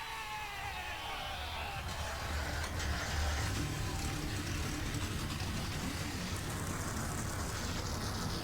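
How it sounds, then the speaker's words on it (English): In a stock car racing game at Rockingham Speedway, North Carolina, a field of 40 race car engines fires up together into a loud, dense, continuous roar that swells in the first seconds, then holds steady. "And the engines have been fired here at Rockingham Speedway"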